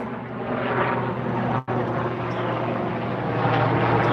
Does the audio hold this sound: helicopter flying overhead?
yes